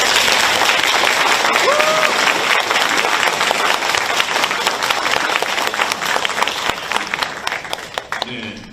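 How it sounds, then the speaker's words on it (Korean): Audience applause at a political talk-concert in Korea, loud, dense clapping filling the room steadily for several seconds, with a few whoops, then thinning slightly at the end. "조금 전 박수는 이 저번 박수 때에 비해서 강도가 약간 약했습니다"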